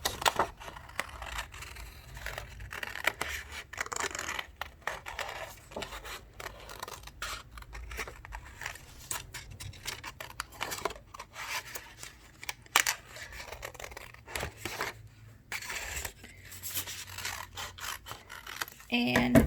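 Scissors snip steadily through paper for a mountain-range paper art piece, a quick irregular series of close, crisp cuts with small rustles in between.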